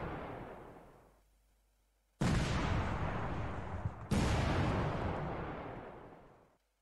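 A video game firefight in Command: Modern Operations: one rumble fades out, then two loud, sudden blasts follow, each trailing into a long roar. No voices are heard.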